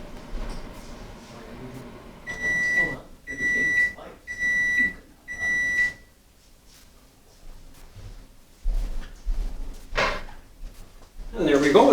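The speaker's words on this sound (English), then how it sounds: "we're going to put it in the microwave" A kitchen microwave oven runs on high to melt cheese on a quesadilla, giving four sharp evenly spaced beeps, then a low hum, door clatter and later handling thumps.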